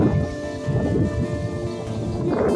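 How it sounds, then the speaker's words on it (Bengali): A storm with rain and hail brings a dense, steady wash of rain and gusty rumble, loud and close, with low thunder-like roaring throughout and no voices. "এই হাওয়া থেমে যাওয়ার পরে আসলো বৃষ্টি।"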